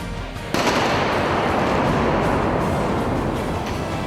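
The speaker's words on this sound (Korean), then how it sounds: "M15 대전차 지뢰 폭파." An M15 anti-tank mine detonates during an army engineer demolition exercise, a sudden massive blast that swells into a long, loud, sustained roar of debris and rumble.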